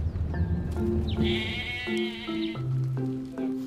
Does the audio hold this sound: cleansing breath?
no